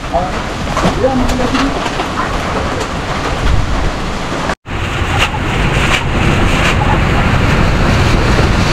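Strong typhoon wind sweeps across a vegetable garden of bottle gourd, okra and string beans, a loud, steady roar that cuts out for an instant midway and then surges back just as hard.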